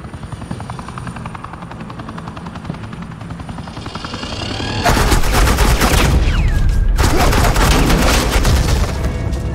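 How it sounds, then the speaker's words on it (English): Gunfire in the Batman Telltale Series game, with a helicopter-like drone building into a loud, dense burst of rapid shots and booms that runs through the second half. "This is Agent Quinn, suppressing fire."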